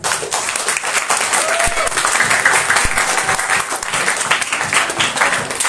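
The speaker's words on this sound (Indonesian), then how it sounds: "Tepuk tangan dong." An audience breaks into loud, sustained applause, with a close, dense texture of many hands clapping for several seconds.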